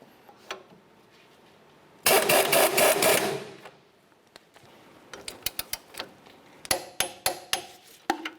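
A torque wrench tightens a strut mounting nut on a 2005-2010 Chevy Cobalt front strut and spring assembly, with a loud ratcheting burst, then scattered clicks and a final run of sharp rhythmic clicks.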